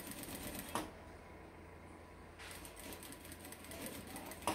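A sewing machine stitches the corners of a fabric pocket, quiet and close, with a brief burst of stitching near the start, a pause, then a longer run of fast even whirring to the end.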